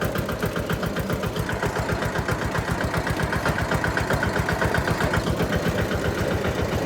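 A Sonalika tractor engine idles close by with a steady, rapid knocking pulse that stays even and loud throughout, with no voices over it.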